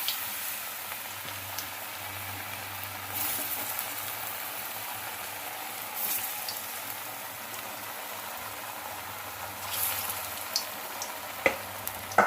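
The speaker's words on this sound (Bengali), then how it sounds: "তো আমি এই সব কোপ্তাগুলোকে তেলের মধ্যে এখন আমি আস্তে আস্তে ভেজে নেব" Jackfruit koftas fry slowly in oil with a low, even crackling sizzle that runs throughout, marked by occasional light clinks and taps near the end.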